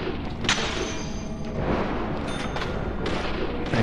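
Several booming gunshots ring out in a video game, sharp, loud cracks with a rumbling tail, set against dense, noisy background action.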